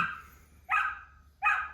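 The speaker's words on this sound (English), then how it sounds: "Let me see what my dog is barking at." Two sharp dog barks, spaced apart, somewhat distant, over a quiet background.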